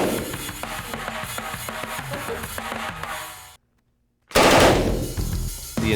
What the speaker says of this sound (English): this is the Thompson machine gun, 45 caliber. This is the one with kick.